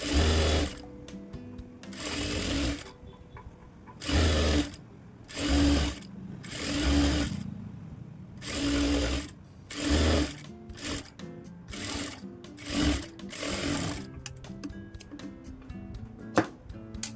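Sewing machine hemming a folded quarter-inch strip for a lined blouse, running in loud bursts of whirring stitches separated by short pauses, close and alone without talk.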